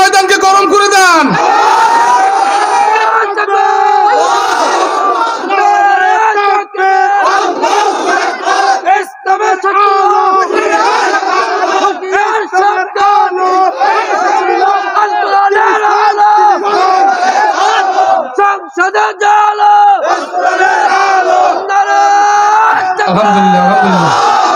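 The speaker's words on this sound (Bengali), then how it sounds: "দুই হাত তুলে আল্লাহু আকবার বলেন, তাকবীর দিয়ে ময়দানকে গরম করে দেন।" A large outdoor rally crowd roars the takbir in unison with raised hands, a loud, sustained mass chant of many voices that continues almost unbroken and fills the space.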